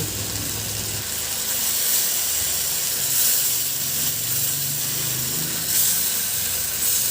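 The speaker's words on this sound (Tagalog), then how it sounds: "Antayin muna natin na maluto yung suka bago natin haluin." Vinegar simmering in a pan for squid adobo, with green chili and liquid seasoning added, giving a steady broad hiss and sizzle that holds evenly throughout, close and moderately loud, with no talking.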